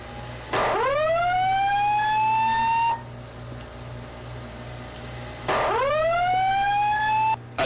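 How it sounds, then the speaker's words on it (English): A building fire alarm sounds in two long, loud blasts, each a rising electronic whoop that holds a piercing tone for a couple of seconds, separated by a pause of background hum. "hurry up and pull that fire alarm"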